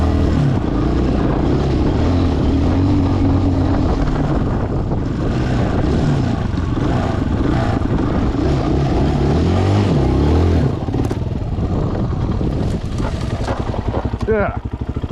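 A Chinese dual sport motorcycle runs through snow with a continuous, rough engine drone and revving that fluctuates throughout. The engine stays loud and close, with wind noise mixed in.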